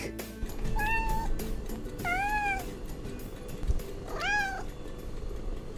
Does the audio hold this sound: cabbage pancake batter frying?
no